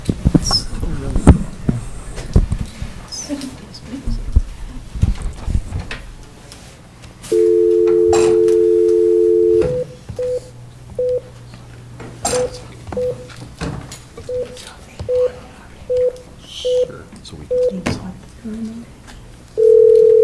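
A telephone call placed over a speakerphone at a county board meeting: a steady dial tone for a couple of seconds, then a long run of short, evenly spaced tones and a final tone, with faint room talk in between.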